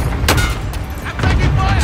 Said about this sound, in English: Attack cluster strike Hold inbound.